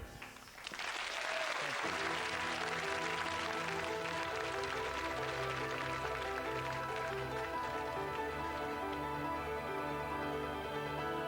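A studio audience at a comedy show breaks into dense, loud applause that swells within the first second and holds steady, with sustained tonal notes ringing underneath throughout.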